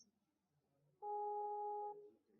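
A phone line ringing tone while a call reconnects, a single steady electronic tone lasting about a second over faint background hiss.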